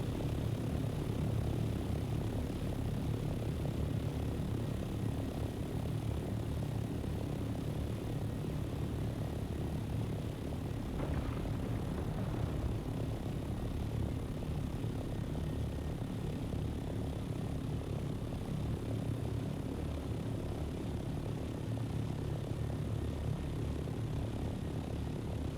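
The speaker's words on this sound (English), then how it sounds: "Trying to figure out how low until I need to put my engines back on." Aircraft engines in the Dune: Awakening video game, a steady loud droning roar with propeller-like hum that holds constant throughout, with no voices over it.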